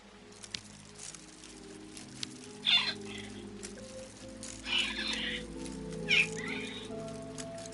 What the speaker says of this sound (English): The birds in the aviary are beautiful.